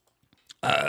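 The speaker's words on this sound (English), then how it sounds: "I could burp right here" A single loud, close burp erupts suddenly after a few faint clicks and stays strong to the very end.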